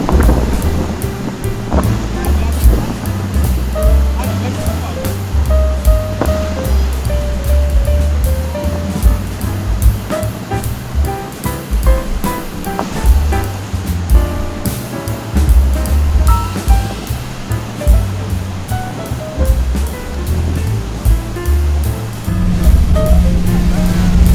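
Rushing water roars loudly and steadily around a tour boat close to the Rhine Falls, a dense low rumble of heavy torrent with wind buffeting throughout and no talk.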